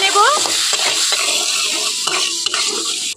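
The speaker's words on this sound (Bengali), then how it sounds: "অল্প একটু পরিমাণ আমি লবণ দিয়ে দেব, খুব ভালো করে এখানে ভেজে নেব" Chana dal fries with salt in oil in a karahi, giving a loud, bright, continuous sizzle. Scraping and stirring strokes from a spatula recur throughout, and the sound cuts off abruptly at the end.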